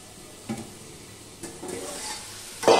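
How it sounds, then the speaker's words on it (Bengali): Potatoes fry in a covered pan while making khichuri, a soft steady sizzle with occasional stirring scrapes and a louder clatter at the end, no talking. "এদিকে দেখো, আলুটাও ভেজে নিচ্ছি"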